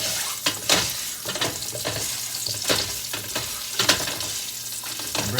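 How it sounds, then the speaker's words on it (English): Sausage sizzles and spits as it fries in hot, smoking bacon fat in a pan, a steady loud crackle with sharp bursts as pieces are pushed around, no voices. "go ahead and gently get your sausage in there"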